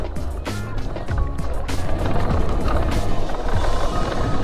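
A Honda CRF-E2 electric dirt bike climbs a small hill, with a steady electric motor whine under wind buffeting and crunching tyres on dirt, close and continuous.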